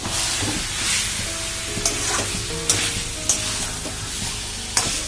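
Chicken curry frying with spice masala in a pan, a loud continuous sizzle broken by sharp clicks and scrapes as the mixture is stirred every second or so.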